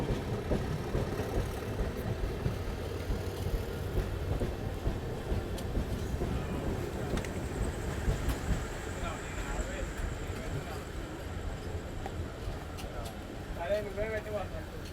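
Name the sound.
Gautami Superfast Express train at a station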